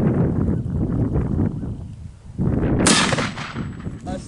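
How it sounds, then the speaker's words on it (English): A single sharp gunshot rings out against aluminum and stainless steel target plates, loud and close, followed by a bright metallic ring, with outdoor murmuring beforehand. "So we're gonna shoot again."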